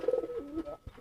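A racing pigeon gives a short, close coo, a low throaty rolling call that dips and ends, followed by a faint soft thump, heard alone without any talking.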